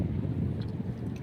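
Strong wind gusting outdoors by the sea under an overcast sky, a steady low rumbling buffet against the microphone throughout, with no voices.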